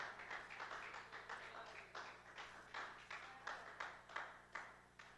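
A church congregation claps in praise to God, a faint, steady, rhythmic run of hand claps at an even pace over a low background hum.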